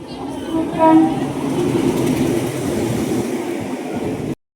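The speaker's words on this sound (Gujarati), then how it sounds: "જો ફાઇનલી ટ્રેન આવી ગઈ છે" A passenger train rolls in and passes at a railway station near Junagadh, a steady loud rumble of wheels and carriages with a short horn-like tone early on, continuing for several seconds before cutting off.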